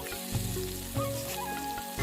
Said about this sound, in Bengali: টমেটো কুচিটা দিয়ে দিলাম,